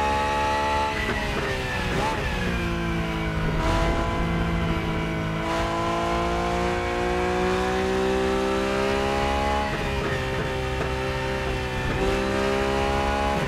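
A racing car engine in the Rennsport racing game, burbling and crackling as the throttle lifts, with steady droning engine tones rising and falling throughout.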